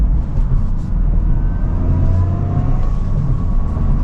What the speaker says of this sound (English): Gosh, that turbo sound.